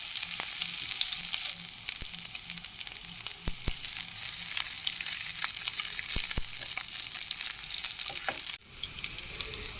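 Chopped onion fries in hot oil in a wok, a steady close hiss of sizzling broken by occasional sharp clicks of a spatula, continuous throughout with no voices.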